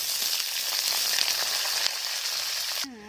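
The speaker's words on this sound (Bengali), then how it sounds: "আলুগুলো ভালো করে ভেজে নেবো লাল লাল করে" Potatoes fry in oil in a pan with a dense, steady sizzle and crackle that cuts off abruptly near the end, where a brief voice is heard.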